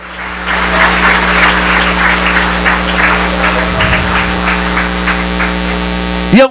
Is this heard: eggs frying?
no